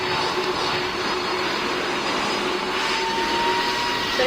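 Jet aircraft engines in the Roblox PTFS game drone loudly and steadily during takeoff, with a high whine that rises slightly in pitch toward the end.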